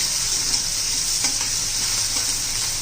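A chopped onion sautés in a hot pan for a cluster bean stir-fry, with a loud, continuous hiss of frying and a few faint scrapes of stirring, no voices.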